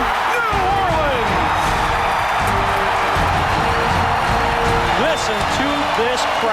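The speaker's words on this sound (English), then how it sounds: "Listen to this crowd." Roaring football stadium crowd cheering a New Orleans Saints touchdown off a blocked punt, a dense, loud sustained wall of noise with scattered shouts and whistles throughout.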